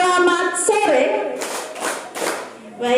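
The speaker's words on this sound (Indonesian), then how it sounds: "Untuk selanjutnya saya bilang selamat sore, tepuknya 3 kali." An audience claps in a few quick bursts of hands on cue, set between stretches of someone speaking to the group.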